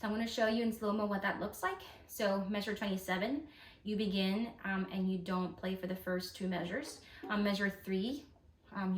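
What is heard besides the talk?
No everyday noises stand out.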